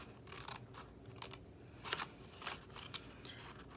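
Scissors snip cardstock along a score line for a small treat box, with a few faint, close crisp cuts over a quiet background.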